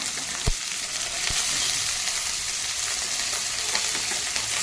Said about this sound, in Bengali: সেই জন্য এটা আগে আমি ভাজবো।